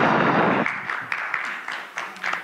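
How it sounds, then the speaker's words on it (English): Audience at a motivational church service claps after being told to take a seat; a dense burst of applause cuts off quickly and trails into a few scattered, separate claps. "Give yourselves a round of applause"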